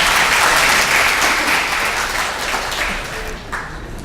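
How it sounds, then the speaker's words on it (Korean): Loud, dense audience applause welcoming a speaker at a Spring developer seminar, a sustained roar of many hands clapping that slowly tapers off. "큰 박수로 맞이해 주시면 감사하겠습니다."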